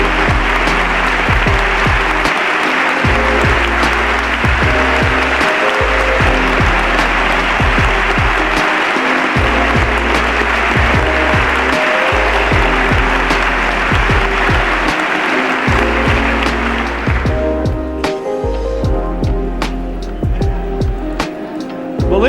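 Dense, sustained applause from a large audience at a 1993 State of the Union address fills the hall loudly and steadily for about seventeen seconds, then thins into scattered clapping with lingering crowd noise.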